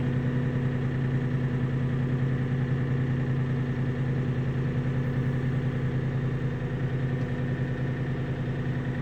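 The diesel engine of a Kioti tractor idles steadily inside a workshop, a loud, even low drone with a constant hum and no speech.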